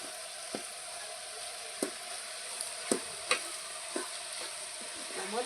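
Garlic chili paste cooks in a pan with mogra, making a soft, steady sizzle broken by periodic scraping stirs, close and fairly quiet with no talk.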